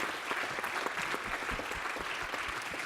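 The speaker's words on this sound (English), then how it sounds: "Big round of applause." A conference audience at AMLD 2017 applauds after a session of rapid-fire talks, brisk crowd clapping with distinct individual claps standing out, steady and fairly close for the whole stretch.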